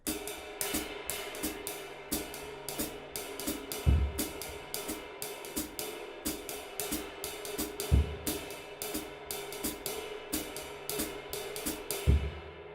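Uptempo jazz drumming: a fast, even ride-cymbal pattern carries throughout, with snare comping and a strong bass-drum accent landing about every four seconds, played solo and close.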